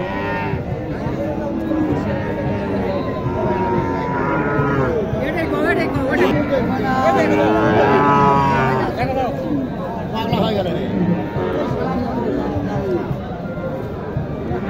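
Cattle, Sahiwal breed bulls at the Mataji livestock market in Naogaon, low repeated moos mixed into a dense crowd of voices and chatter throughout.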